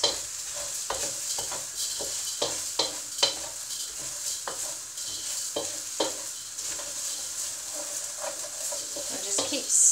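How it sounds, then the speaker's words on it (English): Quinoa grains stirred through oil in a pan for a prawn and salmon risotto, a soft continuous sizzle broken by repeated scraping strokes of a spoon in an uneven rhythm, close by. "I'm just going to give that a bit of a stir around and get all those little grains covered in the oil"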